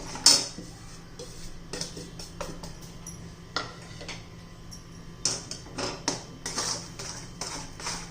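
A spoon scrapes and clinks against a metal pan while milk powder and sugar are mixed for a quick peda sweet, in irregular light taps and scrapes of modest loudness with no talk.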